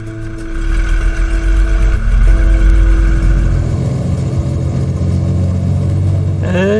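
Aircraft engines start up and run at a wartime service flying training school airfield in Brandon, a loud, steady mechanical drone with humming tones and a swelling low rumble that settles into an even idle.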